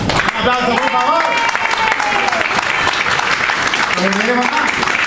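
Audience applause fills a live jazz café, steady clapping under loud overlapping voices and melodic vocal tones throughout.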